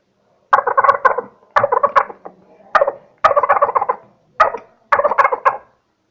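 A man mimics a turkey's gobble with his voice, giving six loud, rapid rattling bursts in a rough rhythm, close and alone.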